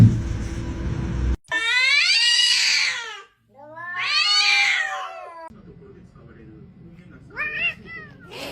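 A house cat meows loudly and close, giving three long wavering calls with short pauses between them, and a faint low background noise sits beneath the calls.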